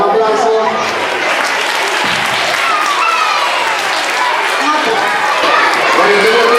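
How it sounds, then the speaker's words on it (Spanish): An audience at a school poetry award ceremony applauds loudly and close by, its clapping mixed with children's excited voices and chatter throughout. "Un aplauso."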